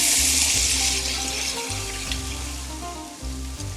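Sliced onions hit a hot pan of butter and bacon fat and sizzle steadily, a loud close frying hiss with faint stirring clatter and no talk.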